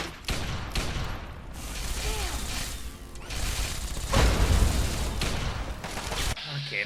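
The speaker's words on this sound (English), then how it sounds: "He's throwing his own grenades at us?" Fallout 3 combat: repeated grenade blasts and rapid gunfire crash in dense, loud bursts with booming thuds, and voices talk over the fighting.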